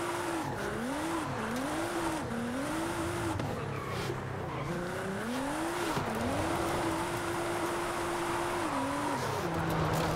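Simulated Nissan 350Z drifting in the racing game Forza Horizon 5: a steady engine drone rises and falls with throttle, tires squealing through slides, continuous and close with no talk.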